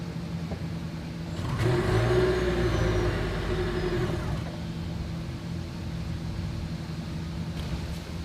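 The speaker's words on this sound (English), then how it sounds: "As always, here is that exhaust clip." A 2021 Toyota Camry's exhaust hums at idle, then rises into a smooth rev lasting a few seconds before settling back to a steady idle, recorded close by with no talking.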